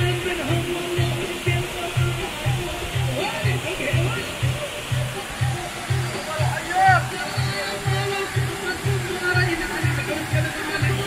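Waterfall near Trabzon, Turkey, a constant rushing roar of falling water beneath a rhythmic low thumping and several people talking nearby.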